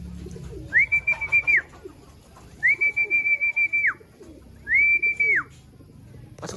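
A racing pigeon arrives at its loft after a hot, hard first-lap derby race in San Narciso, Quezon. Three clear, close whistling tones come in short repeated pulses over a quiet background.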